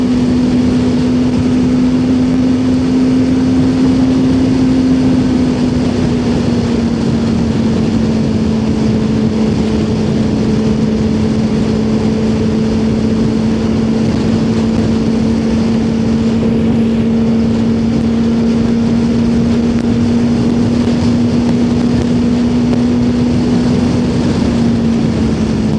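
A Suzuki motorcycle engine drones at a steady, loud pitch while riding, mixed with constant wind rush, running unbroken with no talk.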